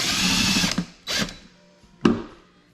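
A power drill bores drainage holes into plastic ice cream buckets, running in a loud continuous burst followed by two short, sharp whirs, close up, with no talking.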